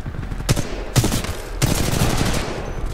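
A gun in the video game Titanfall 2 fires sharp, loud shots that build into a rapid, sustained burst of automatic fire, close up and without talk.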